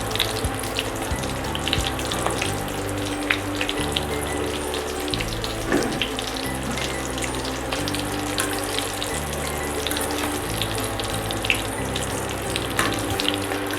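Onion rings fry in oil over a low flame, a steady bubbling, crackling hiss close by with small pops scattered throughout.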